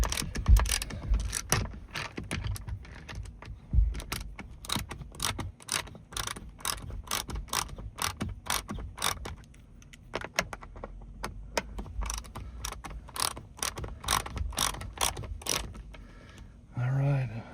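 A ratchet wrench loosens the bolts of a Corvette targa top, making a long run of rapid, close, metallic clicks with brief pauses between strokes.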